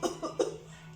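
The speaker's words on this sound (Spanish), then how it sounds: "estás tosiendo. Es un sonido que sale de tu cuerpo." A child coughs three quick times in a row, short close bursts at fairly low volume, followed by quiet with a steady faint background hum.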